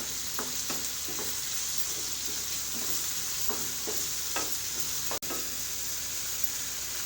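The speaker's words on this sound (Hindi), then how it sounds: "ये टमाटर भी हम इसमें मिक्स कर देंगे।" Chopped tomatoes being stirred into spinach chana dal in a pan, with a steady sizzling hiss beneath repeated soft scraping strokes of a spoon and one sharp click near the end.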